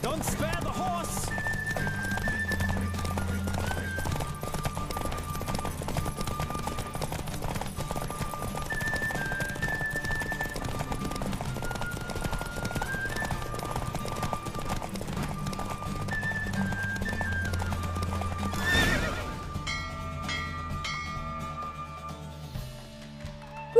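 A horse galloping in the video game The Witcher 3: Wild Hunt, with rapid rhythmic hoofbeats under steady game music for about twenty seconds, ending in a brief burst before the music fades out.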